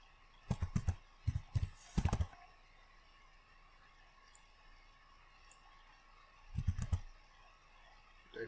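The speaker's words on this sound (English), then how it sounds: "We're going to go to start and then type." Typing on a computer keyboard comes in two short bursts of close, clicky keystrokes separated by several seconds of quiet room tone, with no speech.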